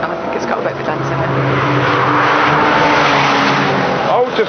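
A Ferrari skids across a car park with a loud, sustained tire squeal and engine roar lasting several seconds, while people talk over it.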